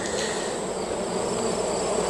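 Honeybees in an opened, strong hive during beekeeping, a continuous close buzzing drone of many bees with no talking.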